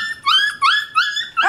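Puppies at play tugging on a toy give four sharp, rising yips and barks in quick succession, loud and close, with no talk over them.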